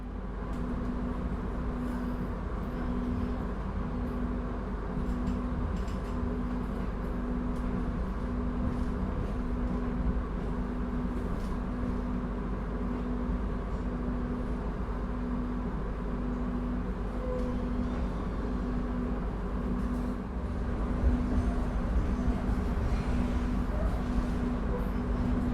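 Sembrani luxury train pulling out of Surabaya Pasar Turi station, heard from inside the carriage as a steady low rumble and hum with a faint recurring tone, constant and moderately quiet with no talk.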